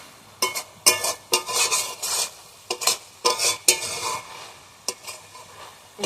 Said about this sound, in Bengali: এবার যেটুকুনি তরকারির রস আছে আমি ভালোভাবে নাড়িয়ে নেবো